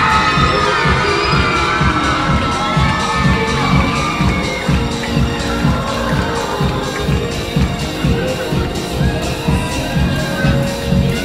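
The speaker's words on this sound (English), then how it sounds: "A big round of applause for Nicole Donlan." At a dance school awards show, a crowd cheers and shouts for an award winner, with whoops, yells and children's voices layered over a steady background of clapping, loud and continuous throughout.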